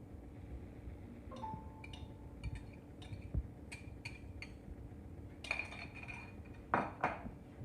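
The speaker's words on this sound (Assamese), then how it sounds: "এতিয়া মই ইয়াতে চিকেনখিনি যিখিনি আছিলে চিকেনখিনি মিলাই দিম" Chicken stirred into a cooled malai kebab mixture in a pan, with scattered clinks and scrapes of utensil against cookware, a few sharper knocks near the end, over a quiet background.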